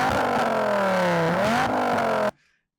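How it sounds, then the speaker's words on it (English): Dodge Viper V10 revving hard and loud for over two seconds, pitch sweeping down then climbing again before cutting off abruptly into silence. "Adam, rev up your Viper"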